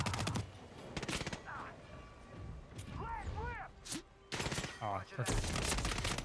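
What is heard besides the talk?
gunshots in the video game Hitman 3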